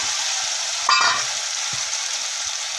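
Tomatoes and salt sauté in hot oil in a pan, a steady close hiss of frying with a brief louder burst near the start and a few soft taps, no talk.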